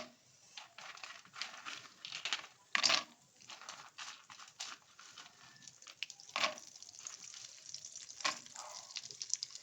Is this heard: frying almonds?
yes